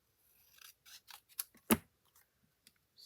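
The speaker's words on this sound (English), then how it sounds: "So I want to cut it right about there, and I am going to just trim that" Scissors snip through paper while trimming a piece for a scrapbook page, a single sharp, close cut standing out among a few softer handling rustles, with no talking.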